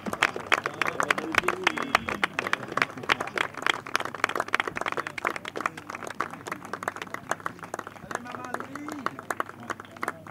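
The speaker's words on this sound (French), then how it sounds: "On applaudit les filles." An outdoor crowd applauds the girls with dense, continuous clapping that holds steady for several seconds, while voices and cheers rise over it now and then.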